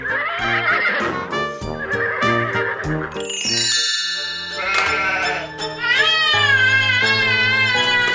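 A high, wavering horse whinny from a toy rises and falls over bright, tonal music-like layers, loud and close.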